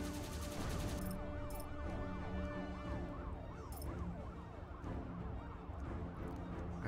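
A police car siren wails in a video game, its rising and falling sweeps repeating steadily and loudly over a dense, busy game soundscape.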